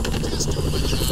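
Small toy helicopters in the Toy Story 3 video game, set in Bonnie's house, give off a continuous buzzing, chopping rotor drone that stays close and steady for about a second.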